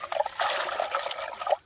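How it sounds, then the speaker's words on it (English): Water trickles and splashes steadily over lentils being rinsed for a lentil curry inside a campervan, a close, continuous wet dribble with small surges, ending abruptly. "I'm making a lentil curry in Val's van, so I'm just washing off the lentils."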